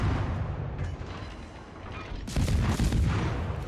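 Warship guns fire in the naval video game World of Warships, a heavy low rumble of battle noise with a louder booming burst partway through against constant engine-like background; no talk.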